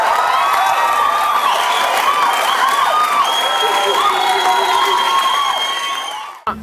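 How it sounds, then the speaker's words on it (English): An audience in Ballymena cheers, whistles and applauds loudly as a band is welcomed onto the stage, a dense sustained roar with shouts that cuts off abruptly at the end. "put your hands together, cheer, shout, welcome down here on stage"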